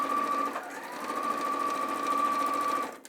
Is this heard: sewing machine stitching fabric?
yes